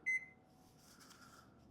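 An oven timer gives a single short, clear electronic beep as it is set for a pizza in a cast-iron pan, followed by quiet kitchen hum and faint rustling.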